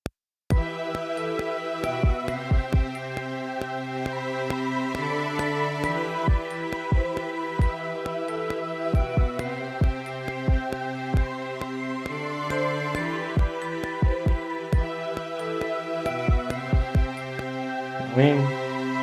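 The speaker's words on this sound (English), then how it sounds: "So I'm about to start with the kick." Kick drum pattern programmed on a standalone MPC, deep thumping hits in a steady repeating rhythm over sustained tonal backing, loud and close, without talking.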